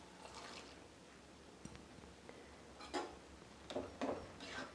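Boiled lentils poured into cooked spinach in a pan give soft, wet splats and drips, quiet overall, with a few thicker plops clustered toward the end.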